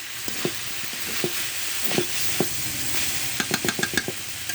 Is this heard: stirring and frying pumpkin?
yes